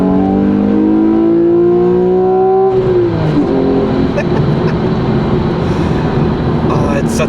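Porsche 911 Carrera 4 (991) engine revs hard toward 7,800 RPM, its rising note climbing then dropping as gears change, loud and close, with someone talking over the second half.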